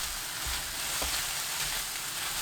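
Eggplant stir-frying in a hot pan with oyster sauce and turmeric powder, giving a steady, fairly quiet sizzle with a faint scrape of stirring partway through, no voices.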